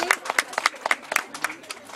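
A group claps a rhythmic patterned chant clap, the Pintar Putri clap, during an Indonesian ministerial visit, with crisp, close, uneven bursts of hand claps over about two seconds.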